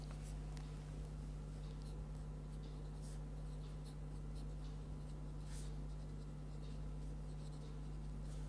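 Equations are written out during an engineering lecture on boiling and condensation, giving faint scratchy strokes and taps at an irregular rhythm over a steady electrical hum, with no talking.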